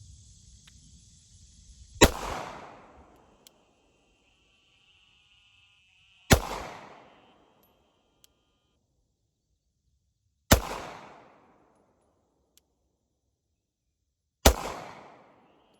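Four sharp shots from a Glock pistol with a threaded barrel firing 147-grain blue bullets ring out, evenly spaced about four seconds apart, each a loud crack trailing a brief echo.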